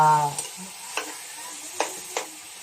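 Tokwa't baboy, tofu and pork, is stirred in a pan under a quiet sizzle, with three or four distinct spatula scrapes and clinks, and a short voice sound at the start.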